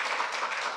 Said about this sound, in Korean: 발표해 주신 김신우 팀장님께 큰 박수 부탁드립니다.